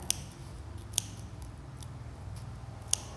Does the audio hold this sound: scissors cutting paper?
yes